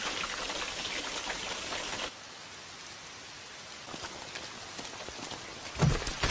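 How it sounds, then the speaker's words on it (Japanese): Heavy rain pours down steadily as a dense hiss in an anime street scene, loud at first, then softer and more muffled with scattered drops, ending with a brief thump. "雨強くなったな。"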